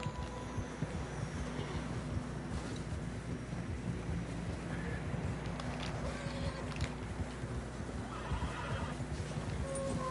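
Horses whinny and hooves clop steadily through snow in Red Dead Redemption 2, over a dense, continuous bed of wind, rain and rumbling weather, with a few brighter neighs poking through.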